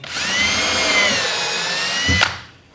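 A power drill pre-drills a hole in a cedar board for a raised bed, one loud sustained whine lasting about two seconds before winding down.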